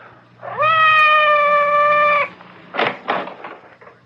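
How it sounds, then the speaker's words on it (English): A cat meows in a radio drama, one long, loud, sustained wail close to the listener, followed by a few rustling, breathy sounds as it fades. "It sounded like Madame's cat, Francois."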